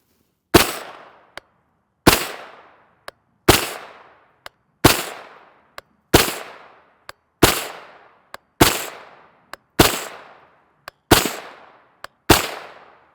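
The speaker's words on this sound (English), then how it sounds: "this is from PSA, this is their AR-V9" A PSA AR-V9 9mm rifle with a 16-inch barrel fires Sterling brass-case 115-grain FMJ rounds at a range, about ten loud, sharp reports spaced roughly every second and a half, each ringing out briefly with a faint click between shots.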